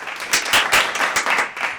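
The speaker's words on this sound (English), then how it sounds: "Everyone give him a round of applause." Audience applause greets a competition winner at a Q&A event, a dense burst of many hands clapping at a fairly steady level, with no speech over it.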